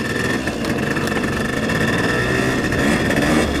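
A 1975 Suzuki RV-90 fat-wheel dirt bike engine runs close by, a loud, continuous mid-pitched drone that holds steady with slight revving throughout.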